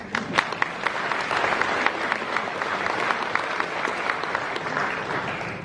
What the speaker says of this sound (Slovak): To je náš veľký potlesk